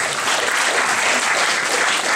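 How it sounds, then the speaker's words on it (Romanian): Hall audience at a mathematics contest in Simleu Silvaniei gives loud, dense applause welcoming a delegation of children from the Republic of Moldova, many hands clapping steadily throughout. "Îi aplaudăm și le urăm bun venit"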